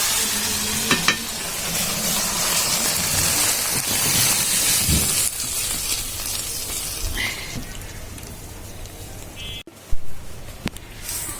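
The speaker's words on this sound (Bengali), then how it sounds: "মা এখন ডালগুলো ভেজে নিবে।" Mung dal lentils fry in oil in a pan, giving a continuous sizzle with scraping stirs and a few sharper clinks near the end.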